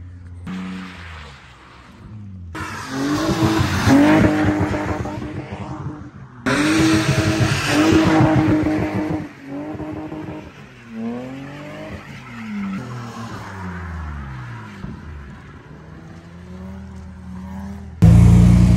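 Car tires squealing while drifting on a rainy track at Buhovtsi, long wavering screeches alongside revving engines, loud and close, in repeated passes.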